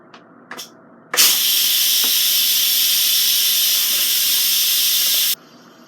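A loud, steady hiss of steam blasts from an Instant Pot Duo Mini pressure cooker's quick release for about four seconds after a couple of small clicks, then cuts off abruptly.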